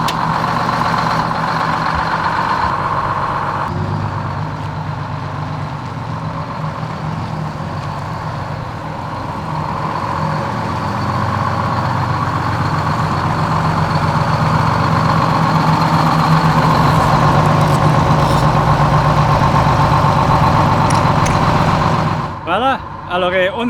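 A Greyhound bus engine idles before departure, a steady heavy diesel rumble that holds close and loud throughout, with people talking over it and a clatter near the end.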